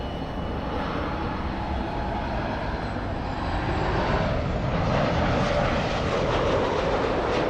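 A heavy airliner at Los Angeles International Airport roars steadily at a distance, a broad continuous engine rumble that swells slightly toward the end, with no talk.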